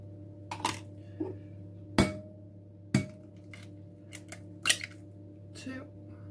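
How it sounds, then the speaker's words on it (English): Three eggs cracked against a bowl in a home kitchen, a few sharp separate taps and cracks spaced about a second apart, quiet and close with soft room background. "I am then going to crack 3 eggs into this."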